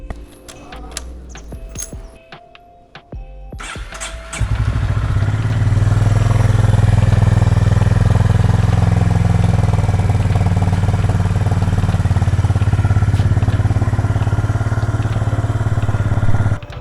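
Motorcycle at a village home: a few metallic clinks and key jangles, then the engine fires and settles into a loud, steady low idle that runs on to the end.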